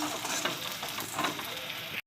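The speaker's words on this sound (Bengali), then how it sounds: "পেঁয়াজটা ভেজে নিচ্ছি" Steady frying sizzle of onions and green chillies in a hot pan, continuous and close, with faint stirring scrapes and no talking.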